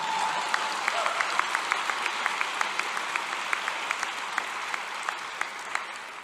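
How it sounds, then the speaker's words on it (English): Graduates at a Naropa University spring commencement ceremony clap for themselves, producing steady, sustained applause from a large crowd with sharp individual claps standing out. "But yes, clap for yourselves."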